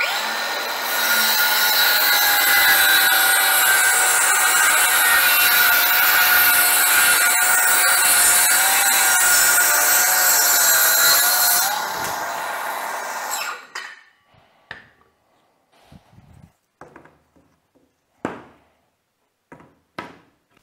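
A brushless cordless circular saw cutting through wood, a loud steady whine with a wavering pitch lasting about twelve seconds, then winding down into scattered clicks and knocks of handling.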